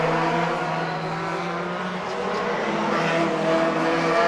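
National Hot Rod race cars race at Hednesford Hills Raceway in 2008, a loud, continuous roar of several engines together on the oval with no break.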